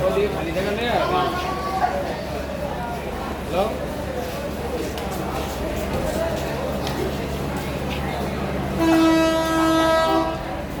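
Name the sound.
local train departing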